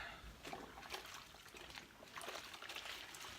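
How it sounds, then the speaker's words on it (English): A cloth is rinsed in water, giving soft close trickling and sloshing splashes, faint and continuous with no talking. "Rinse my cloth."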